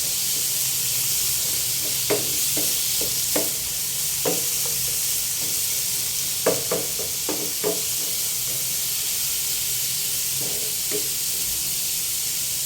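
Sliced carrots sauté in a pan, a constant sizzling hiss broken by scattered clacks and scrapes of stirring, close and fairly loud with no voices.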